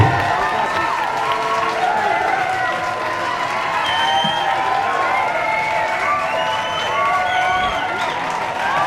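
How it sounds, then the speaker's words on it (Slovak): Crowd at the Raslavický pedál 2024 cycling race applauding and cheering, a steady wash of clapping mixed with shouting voices and chatter that holds at an even level throughout. "veľký potlesk od vás"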